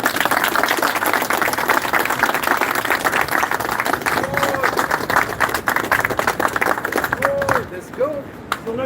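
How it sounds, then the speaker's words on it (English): A group claps and applauds loudly and continuously after a camp lesson, with voices talking over the noise before the clapping tapers off at the end. "Give me a hand."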